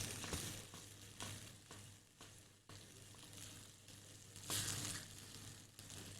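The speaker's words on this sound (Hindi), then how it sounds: "इसको आपने भूनना है कि दही और मसालों का जो कच्चापन है वो ख़त्म हो जाए" Yogurt and spices sizzle faintly in a pan as they cook down for a potato curry, with soft stirring scrapes and clinks against the metal.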